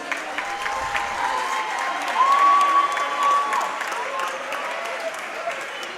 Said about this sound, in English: Let's give a round of applause to Brooklyn Friends.